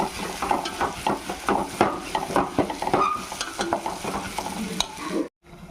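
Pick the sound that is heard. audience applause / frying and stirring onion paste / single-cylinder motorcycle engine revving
frying and stirring onion paste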